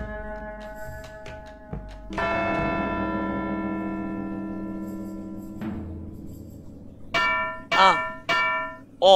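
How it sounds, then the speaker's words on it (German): A church bell rings in the video game Edna bricht aus, one sustained, resonant strike that hums on for several seconds before fading, followed by a few loud, warbling cries. "Probieren wir es mal mit der Glocke hier."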